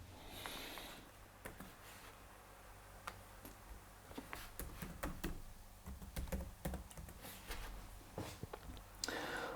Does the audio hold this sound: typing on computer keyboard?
yes